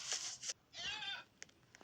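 A goat-deer creature in the survival game 99 Nights in the Forest lets out a couple of short, nasal bleats, close and fairly loud, followed by quieter soft clicks and ambience.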